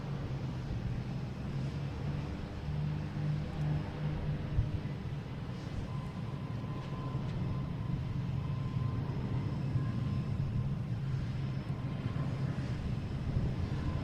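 Delta flight 5604 from Memphis arriving at Boston Logan International Airport, its engines a steady low rumble that holds at an even level throughout, with no talk.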